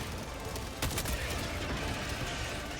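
Sustained gunfire in the video game Helldivers 2: a dense, continuous rattle of rapid shots with a sharper burst near the middle, loud and steady over the whole stretch.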